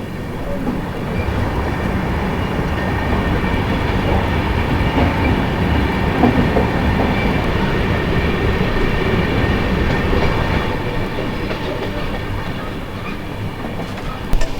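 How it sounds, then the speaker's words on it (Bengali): Howrah–Pune Duronto Express rolling through the Saranda railway tunnel in rocky, hilly country, a loud, steady, close roar of wheels and carriages with faint clickety-clack, unbroken for the whole stretch and with no talking. "আমরা এইমাত্র যে টানেলটা ক্রস করলাম এটা হচ্ছে সারান্দা রেলওয়ে টানেল"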